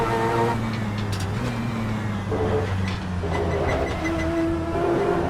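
Race car engine in the Assetto Corsa racing game, a loud steady drone with shifting pitch as the car accelerates through gears, continuous and close throughout with no talking.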